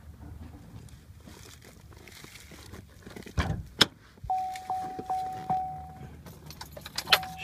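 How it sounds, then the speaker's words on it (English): Inside a 2006 Chevy Impala LTZ, keys jingle briefly as the engine is turned off, followed by a few close clicks and a short series of chimes and mechanical clunks. "Shut off, take off my keys."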